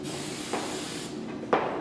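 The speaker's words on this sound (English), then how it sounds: "Spraying." Hairspray hisses from an aerosol can onto hair during a bridal updo with extensions, a steady close spray lasting about a second, followed by a short sharper burst.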